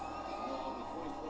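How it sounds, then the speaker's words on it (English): A packed NASCAR Cup Series crowd at the Michigan oval cheers in a steady, broad roar, distant and continuous for a brief moment with no clear voices standing out. "Packed crowd."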